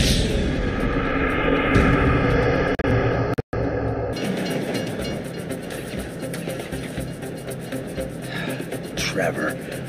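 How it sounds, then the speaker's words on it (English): Train passing in the video game GTA 5, a loud rumbling roar that drops off partway through and leaves a rattling clatter of the cars, with game dialogue or speech over it. "If you were local, you'd know the train comes by right now."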